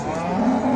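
A dairy cow at a livestock market gives one short, close, loud moo, with no talk over it.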